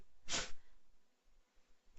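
A single sharp sneeze bursts out close by, followed by a quiet room with faint rustles.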